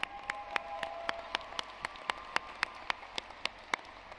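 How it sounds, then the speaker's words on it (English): Sparse applause at an undergraduate commencement for class committee members, with a few distinct, sharp claps standing out at a regular pace over a soft, thin bed of scattered clapping. "Let's give them a round of applause."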